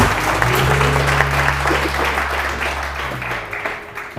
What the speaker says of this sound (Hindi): तो एनीवे बहुत सारी तालियां